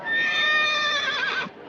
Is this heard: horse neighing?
yes